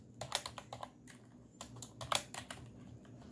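Quick bursts of clicky keystrokes on a computer keyboard while coding a simple mail client in Python, arriving in two clustered runs with a short pause between, close and moderately quiet, no one speaking.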